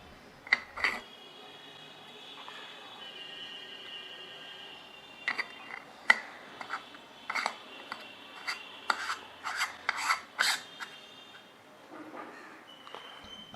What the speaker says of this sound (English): Again, clean it with a cloth and blow with your blower if you need it.